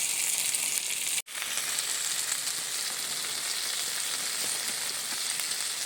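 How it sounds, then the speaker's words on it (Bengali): Okra, potato and yardlong beans frying together in a pan, a steady close sizzle that continues throughout with one brief dropout early on. "ভেন্ডি, আলু আর বরবটি দেখুন বেশ সুন্দর ভাজা ভাজা হয়ে গেছে, আর একটু ভাজলেই হয়ে যাবে"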